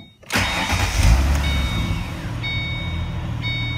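A car engine cranks and catches during a battery test with an OBDII code reader and battery tester, then settles into a steady idle with faint electronic beeps from the tester, no one speaking.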